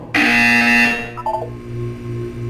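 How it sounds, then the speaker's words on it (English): A loud, harsh electronic buzzer in the video game Portal 2 sounds for about a second, followed by a few short beeps and a lower steady tone. "You will hear a buzzer."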